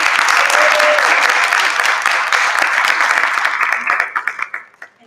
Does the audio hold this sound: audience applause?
yes